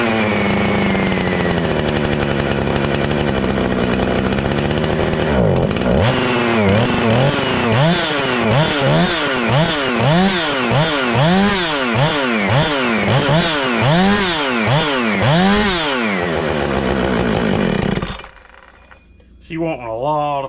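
A ported Husqvarna 455 Rancher chainsaw with an air leak, running loud and close, steadies into a long series of rhythmic revving surges, rising and falling repeatedly, then cuts off abruptly into near silence.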